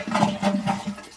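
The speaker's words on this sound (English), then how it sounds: "let me go ahead and lift this thing up so it completely drains the water down" Toilet tank draining its water down as the flapper is lifted by hand: a steady, close rushing flow with low gurgling pulses repeating roughly every quarter second, alone with no voices.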